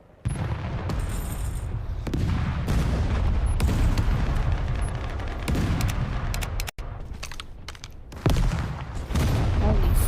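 Rapid bursts of gunfire and booming blasts from a first-person VR shooter, Forefront, come thick and close, with sustained volleys, a brief sharp dropout partway through, and heavy firing resuming near the end.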